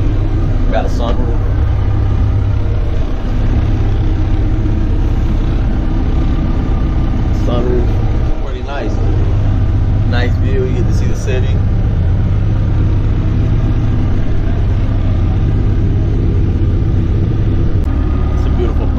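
A Venice water taxi boat's engine running at a steady low rumble throughout, close and continuous, with people talking over it.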